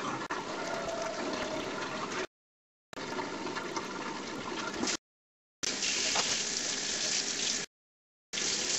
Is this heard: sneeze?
no